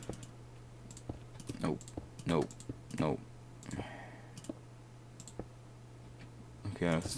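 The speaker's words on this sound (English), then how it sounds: "Sorry if you can hear my mouse clicking" Computer mouse clicks tap out sharp, sparse single clicks and short bursts while someone builds in Minecraft, close and quiet, alongside intermittent talking.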